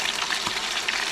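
Frozen dumplings frying in a pan of bacon fat and oil, a dense, steady crackling sizzle with sharp spitting pops throughout, close and fairly loud.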